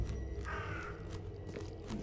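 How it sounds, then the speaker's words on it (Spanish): A crow caws once in The Sinking City video game, a single harsh, fairly clear call standing out over a dim, rumbling ambient background. "Un pájaro."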